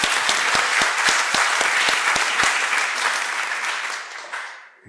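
Sustained audience applause at an arbitration congress in Peru, a dense wash of clapping from a large crowd holding steady before fading out near the end.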